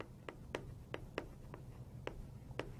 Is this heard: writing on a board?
yes